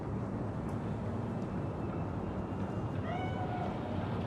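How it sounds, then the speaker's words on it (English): A cat meows in Cyberpunk 2077, a short wavering cry late in the clip that rises over a dense, steady bed of ambient game noise. No voices are heard. "Chill, just a cat."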